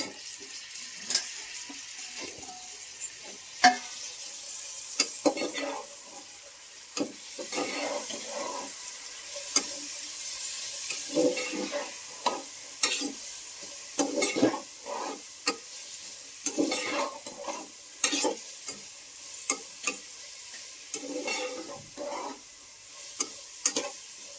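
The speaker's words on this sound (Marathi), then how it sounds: "गवारी टाकणार आहे थोडीशी गवारी तेलात म्हणजे परतली जाते" Cluster beans sautéing in hot oil with turmeric, a continuous crackling sizzle broken by frequent clattering stirs of a spatula against the pan, close and fairly steady throughout.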